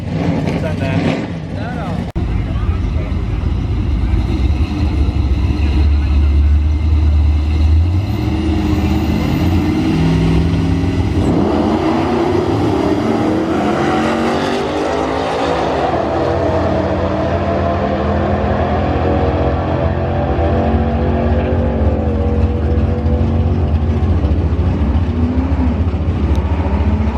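A tuned car launches down a drag strip, its engine roaring loud and near before climbing steadily in pitch through the gears, with people talking over it.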